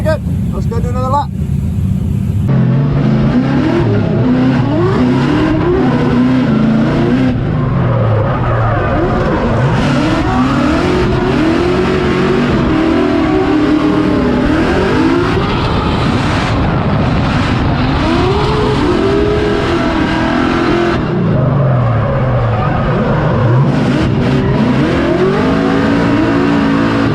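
A drift race car lapping the Formula Drift Long Beach street circuit, engine revving hard with rising and falling pitch and tires squealing through slides, loud and close, with a voice talking over it.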